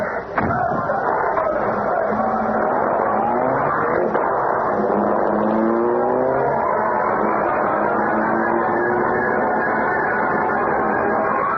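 In an old-time radio drama sound effect, the Black Beauty car starts and drives away, its engine rising through gear-shift revs in a loud, steady drone after a brief thud at the start.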